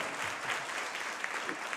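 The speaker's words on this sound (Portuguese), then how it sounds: "Primeiro dá uma salva de palmas ao Álvaro e Daniel" A church congregation gives a round of applause for the musicians Álvaro and Daniel, steady crowd clapping that holds at moderate loudness throughout the brief moment.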